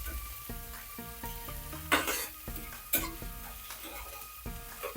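Long beans tipped into hot oil in a pan give a steady, soft sizzle of frying, broken by two louder bursts of stirring and scraping, with background music playing throughout.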